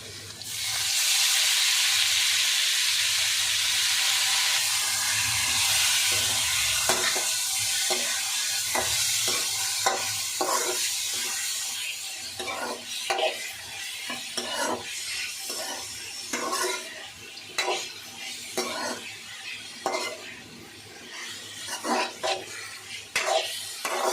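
Chicken pieces fry with softened onions and curry leaves for a pepper chicken fry, a loud steady sizzle at first that thins into crackling frying punctuated by repeated scrapes and clinks of a stirring spoon against the pan.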